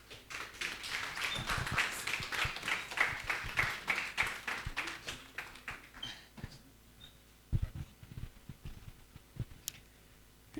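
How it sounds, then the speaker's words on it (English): An audience at a tech talk on designers and engineers applauds a moderator and speakers: dense, steady clapping for about six seconds, then it thins to a few scattered claps that trail off. "please join me in giving a warm round of applause to this our moderator and speakers"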